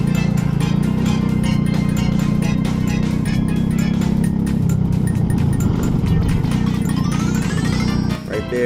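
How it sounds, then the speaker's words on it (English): A kart engine at a test-and-tune session drones loudly and continuously close up, its pitch sagging and wavering as it bogs and loses RPM through a corner, with a brief dip at the very end. "you can hear it like bogging out and like losing RPMs"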